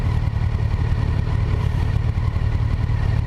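A Kawasaki Versys 1000 LT SE motorcycle cruises under its rider, the engine giving a loud, steady low drone with a slight rough pulse and wind rush, no voices.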